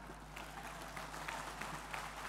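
An audience applauds at the FEKDI x IFSE 2025 opening ceremony in Indonesia, a continuous wash of clapping from a crowd, fairly distant and steady over a low constant hum.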